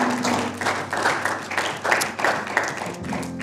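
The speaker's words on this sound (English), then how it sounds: "Why don't we give them a round of applause?" A church congregation applauds steadily, a dense wash of many hands clapping throughout, fairly close and sustained without pause.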